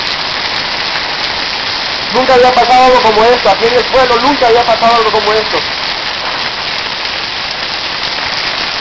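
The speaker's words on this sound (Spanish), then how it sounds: "La lluvia bastante fuerte, tengo miedo." Heavy rain pours down during a tornado storm in Salamá, Olancho, Honduras, a loud constant hiss of rain on surfaces throughout, while a voice speaks over it in the middle.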